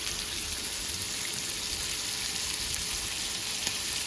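Fry bake dough sizzles steadily in hot oil, a loud, even crackle and hiss close by with no talking.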